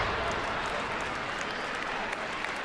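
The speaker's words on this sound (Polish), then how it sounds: "wreszcie ruszyły trybuny, są oklaski" Football stadium stands breaking into steady applause after a shot during a Polish Ekstraklasa match, a dense, even wash of crowd clapping that holds at constant loudness throughout.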